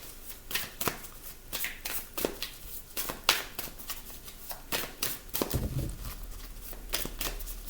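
An oracle card deck is shuffled by hand for a card reading, giving a quiet, close riffle of repeated soft slaps and swishes with an uneven rhythm and a light rustle near the end.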